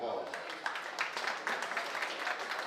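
Audience applause at a county livestock show, a steady patter of clapping that continues as a voice talks over it.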